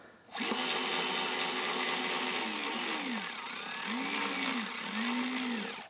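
Power tool driving bolts into a Ford 5.4L 3V throttle body, a steady close whirring drone with a few rising and falling speed changes, alone without talk.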